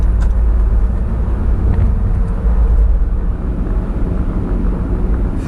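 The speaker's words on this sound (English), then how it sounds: "I can hear another car engine just now" Steady low engine drone with road rumble, as from inside a car cruising at speed on a motorway, continuous and fairly loud with no talking.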